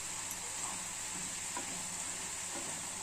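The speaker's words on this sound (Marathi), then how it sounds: "बघा, छान असा कच्चा बटाटा शिजत आहे, शिजू द्यायचा।" Raw potato cooking in a pan, a steady soft sizzle and hiss of frying that runs unbroken and fairly quiet, with a few faint scrapes of stirring.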